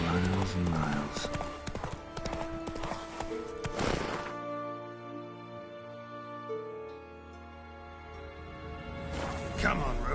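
Horse Roach gallops in The Witcher 3, with steady rhythmic hoofbeats and clip-clop up close, loud at first, then fading under music before picking up again near the end.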